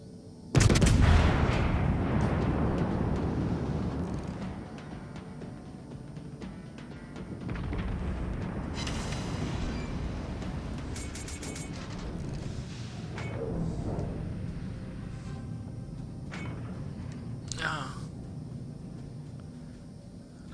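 Naval gunfire in World of Warships: a heavy booming salvo opens, followed by a long rumbling roar and scattered later shots and impacts, loud and close with no voices.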